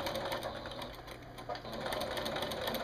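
A sewing machine runs steadily while stitching a quilt binding, a continuous rapid mechanical whirring with fine rhythmic ticking at close range, briefly easing near the middle before carrying on.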